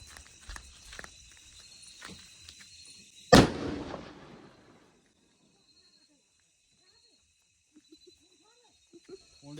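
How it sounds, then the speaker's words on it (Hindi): A firecracker bomb goes off outdoors with one sudden, loud, sharp blast that rings and fades over about a second, following quiet background noise and faint activity, then near-silence with a few small clicks. "बाकी करते हैं और जलाते हैं इस बम को।"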